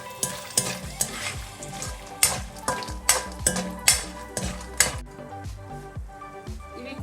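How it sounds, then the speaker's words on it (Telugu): Peanuts and cashew nuts fry in a pan for bhindi rice, a continuous close sizzle punctuated by regular scraping strokes of a spoon stirring them, about a dozen rhythmic scrapes before it quietens. "తర్వాత పీనట్స్, అలాగే ఎమ్మీగా ఉండే క్యాషూ నట్స్. ఇది కొంచెం ఫ్రై చేసుకుందాం అన్నమాట."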